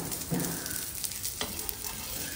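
Banana stem cutlets frying in a pan and being turned with a spatula, heard as a low steady sizzle with a couple of brief scraping touches, fairly quiet and close.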